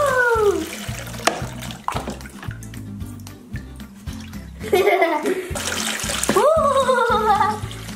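Water runs into a toy bathtub to bathe a doll, a loud steady splashing flow with gurgles, close by, while children's voices talk and exclaim over it.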